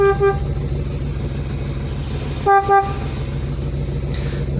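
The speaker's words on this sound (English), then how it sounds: "I didn't show y'all the horn." A 1959 Edsel's horn sounds in short toots: a brief blast near the start, then two more close together midway, over a steady idling engine hum.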